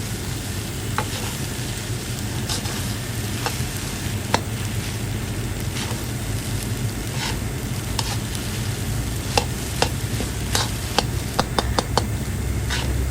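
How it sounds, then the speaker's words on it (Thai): Salmon fried rice with egg being stir-fried in a pan, a steady close sizzle with scattered sharp scraping and tapping of the spatula throughout, no voice. "ขยี้ไข่เสร็จแล้ว เราก็จะผัดกับข้าวเลยค่ะ"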